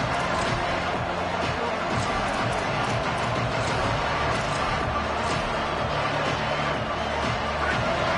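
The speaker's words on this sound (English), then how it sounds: "Listen to this crowd just shaking the girders of this place" A large college football stadium crowd roars continuously, a loud, dense wash of noise with no pause, with a bit of distant commentary mixed in.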